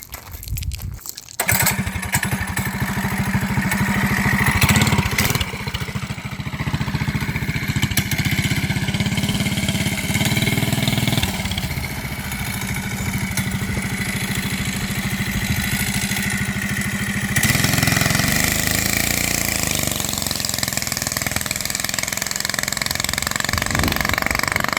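A go-kart's 212 engine with a torque converter, black driver springs and green driven clutch, revs hard under an added load, droning loud and steady at full throttle for the whole stretch with no talk.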